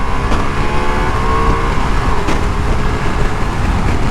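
A 2024 Ducati Multistrada V4 S Grand Tour motorcycle pulls hard on a highway, its engine note climbing steadily through a loud, constant wash of wind and road rumble, with no talking.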